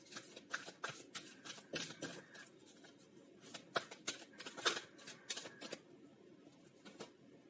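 Tarot cards are shuffled by hand in quick, soft riffling bursts, crisp papery flutters coming in irregular runs, near and quiet with no talk over them.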